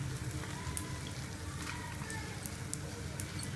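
Egg frying gently over low heat in a pan for a bread sandwich, a steady soft crackle and sizzle with faint popping throughout, close and even, no talking.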